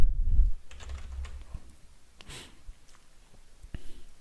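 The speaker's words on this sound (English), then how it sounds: "I'm going to type in a secret here." Computer keyboard typing at close range, in quick scattered keystrokes with brief pauses, under a quiet background.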